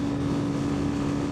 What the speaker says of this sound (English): I'm really revving the engine here